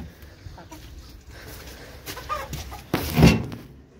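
Chickens cluck and mutter around a farm poultry yard, scattered soft calls rising to a louder squawk near the end, with rustling nearby.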